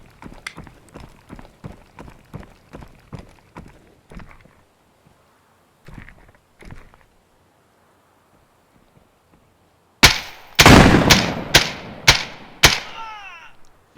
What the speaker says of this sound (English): 6 rounds there to put that scav down